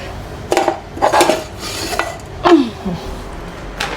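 A spoon scrapes and clinks against a bowl of pet food as it is stirred, several quick close scraping strokes in an irregular rhythm with no talking.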